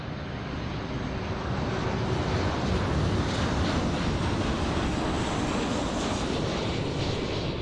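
A KLM Boeing 737-800 landing on runway 06 at Amsterdam Schiphol: a loud, steady broadband jet roar that swells slightly mid-way and holds continuously.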